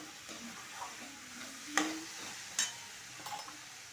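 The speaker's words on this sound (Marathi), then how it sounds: "कांदा हलवून घेऊ त्यात थोडी हळद टाकूया" Onion being stirred in a hot pan with turmeric as besan is made, a soft continuous sizzle broken by a few sharp scraping strokes of the spoon, close and fairly quiet, with no talking.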